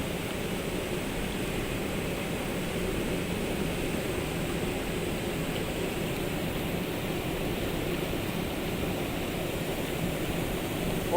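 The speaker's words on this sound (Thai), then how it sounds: "ฟังเสียงน้ำนี่" Steady, loud rushing of fast river water below a weir on the Lam Takhong river, a continuous broadband roar, unbroken for the whole stretch.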